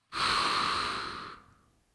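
A single close, breathy exhale lasting about a second and fading out, taken while lowering a stick during a seated shoulder flexion exercise for seniors, with no talking.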